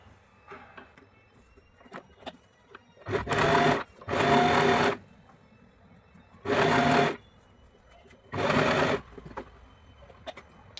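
A sewing machine stitches a plain blouse in four loud bursts of rapid whirring, each lasting about a second, separated by quieter handling noises and faint clicks.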